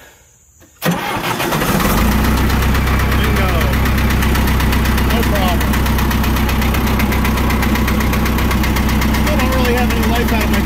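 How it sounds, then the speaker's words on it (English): John Deere 450 engine cranking briefly before catching and settling into a loud, steady idle close by, chugging evenly. "Let's see if this machine will start right up now."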